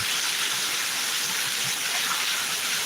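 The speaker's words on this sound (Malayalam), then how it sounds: "ഇതാ അടിപൊളിയായിട്ട് പെയ്യുന്നുണ്ട് മഴ അതാ സൂപ്പർ നല്ല കിടില മഴ" Heavy summer rain pours steadily in Kerala, a dense, even roar that holds without a break and with no voices.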